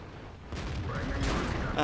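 Tank cannon firing a high-explosive shell in World of Tanks, a muffled boom amid game noise, with a louder thump near the end.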